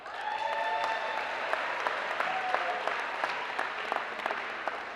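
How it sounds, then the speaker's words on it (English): A crowd in a gym or auditorium applauds the drummers at a homecoming pep rally, steady clapping sustained throughout with a few louder individual claps, a faint tone lingering underneath. "Give them a round of applause."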